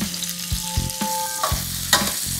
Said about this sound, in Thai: หอมแดงนะครับผัดให้หอมเลย